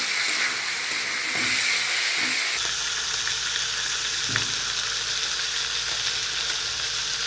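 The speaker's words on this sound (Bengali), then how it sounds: "এবার আমি এর মধ্যে টমেটো আদা বাটা কাঁচা লঙ্কা সব দিয়ে দেব দিয়ে একটু কষিয়ে নেব" Tomato, ginger paste and green chili fry in a pan for a Bengali tangra fish curry with bori and potato, giving a steady close sizzle with a few stirring knocks partway through.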